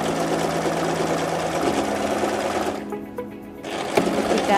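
A sewing machine stitches the gusset of a baju kurung in a fast, steady motor buzz that stops briefly near the end, then gives a short final burst, loud and close with no talk.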